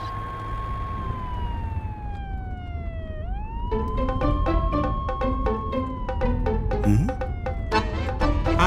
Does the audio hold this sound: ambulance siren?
yes